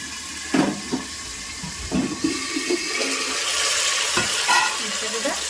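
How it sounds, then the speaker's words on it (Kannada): Tamarind water poured into a large hot cooking pot gives a gushing, splashing pour with sizzling bursts and stirring clatter, fairly close and steady throughout. "ಒಂದು ಸ್ವಲ್ಪ ಹುಂಚಿಕಾಯಿ ನೀರು ಹಾಕಿ ಮ್ಯಾಗ ಮುಚ್ತೀನಿ"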